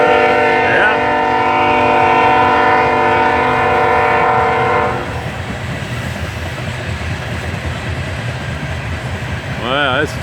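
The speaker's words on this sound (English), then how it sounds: "Another Norfolk Southern. Looks like a coal train." A southbound Norfolk Southern empty coal train passes close by, its horn blaring steadily for several seconds, then a loud rumble of wagons rolls past with a brief horn blast near the end.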